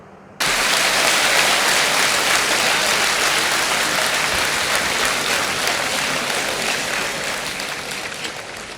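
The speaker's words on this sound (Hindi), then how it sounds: "सारे के सारे तालियां बजा रहे हैं।" A large crowd in an open field bursts into applause, a dense, loud, sustained wash of clapping that gradually thins toward the close.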